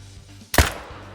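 A single sharp rifle shot at a peccary in theHunter: Call of the Wild, sudden and loud with a short rumbling tail over a quiet background.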